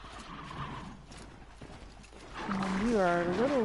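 A horse in the video game Horizon Zero Dawn gives a rising, wavering neigh near the end, after quieter hoof and movement sounds; a voice talks briefly under the game audio.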